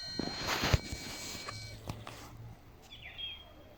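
Faint birdsong chirps in a quiet outdoor setting among tulips on a cloudy day, with a few soft thumps and light background rustling.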